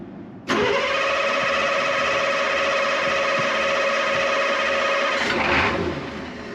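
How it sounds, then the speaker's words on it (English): A 1984 Ford F250 with a 6.9L diesel engine cranks and catches, then holds a loud, steady, rough idle close by for several seconds before easing off slightly at the end. "give it a little bit of throttle just to kind of get it up and going, and it should wake right up"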